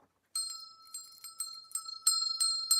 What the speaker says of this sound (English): You ring that bell too.